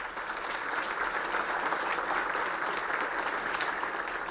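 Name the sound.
audience applause for event sponsors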